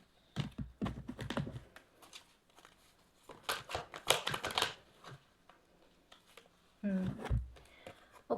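Tarot cards shuffled and riffled in several quick rustling bursts, close by, interleaved with a woman's speech.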